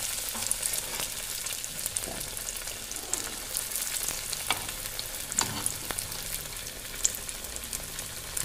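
Vetki fish cutlets fry slowly in hot oil, giving a steady, close sizzle with scattered crackles and small pops throughout, and no voices.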